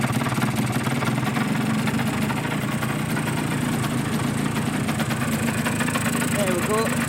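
A Suzuki GP100 motorcycle engine with added piston slap runs steadily close by, a dense, continuous mechanical drone with a rattling edge that holds constant throughout.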